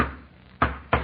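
Two sharp knocks on a door, close and distinct, spaced about a third of a second apart in a secret-knock pattern, heard in an old radio comedy setting with no talk.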